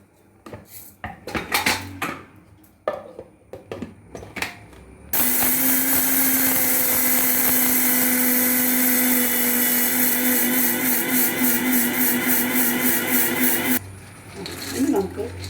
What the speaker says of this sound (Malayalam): മിക്സിയുടെ ജാറിലിട്ട് ഒന്ന് പൊടിച്ചെടുക്കാം